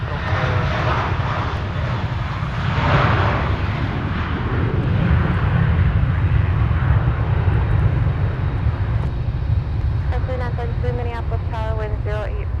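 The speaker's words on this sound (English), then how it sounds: "That United is going straight up." A United airliner climbing steeply on takeoff at Minneapolis–St. Paul airport, a loud sustained jet engine roar filling the scene while radio chatter and voices run over it.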